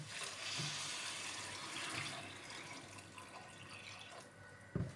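Water is poured in a kitchen while cooking with eggs, a soft continuous splashing and trickling close by, with a brief clatter at the very end.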